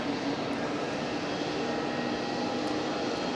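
An EasyJet airliner departing Geneva Airport for Bari gives off a steady, moderately loud engine roar with a faint whine, constant across the short stretch with no voices.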